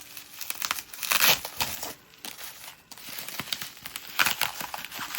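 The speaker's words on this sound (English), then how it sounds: "lots of bubble wrap" Bubble wrap packaging crinkles and crackles loudly as it is pulled away during a stationery planner unboxing, in several dense bursts with brief quieter gaps.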